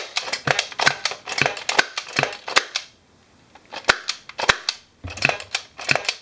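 A Nerf Dart Tag Snapfire 8 blaster fires in quick bursts of sharp, loud snapping clicks, several in a row, then a pause, then more rapid shots, close up with no talking.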